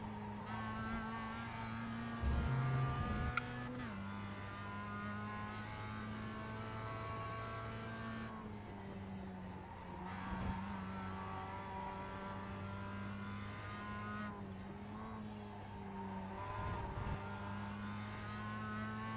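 Race car engines in a racing video game drone with a steady, sustained whine that shifts pitch slightly as the cars run. A brief louder burst comes early on, and there is no talk.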